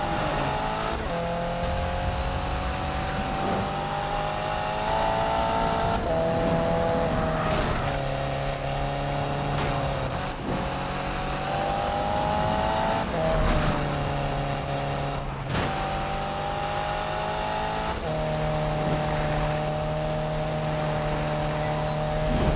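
A car races onto the highway in Need for Speed 2015, its engine droning loud and steady with repeated gear-shift pitch drops and rises, plus hints of tire noise, with no talking over it.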